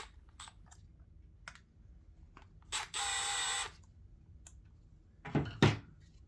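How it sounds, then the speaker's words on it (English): Screws are driven into mounting rails for a Ridgid ProGear 2.0 or Klein ModBox organizer, with scattered close clicks and taps, a sustained buzzing whir of a driver running for about a second, then a couple of louder rattling bursts. "insert the included screws into the rails, and tighten them in until they're barely poking out the back"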